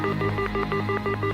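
A landline telephone keypad gives a rapid, evenly spaced run of about eight dialing tones, loud and close, as a number is dialed to a hotel reception.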